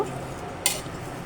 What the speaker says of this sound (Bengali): কিছু সময় মাংসটাকে ভালোভাবে কষিয়ে নেব